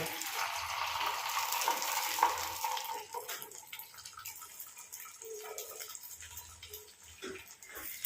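Egg paniyaram batter fries in oil in the wells of a paniyaram pan, giving a steady crackling sizzle that is loudest early on and eases to a softer, patchy frying hiss, with no talking.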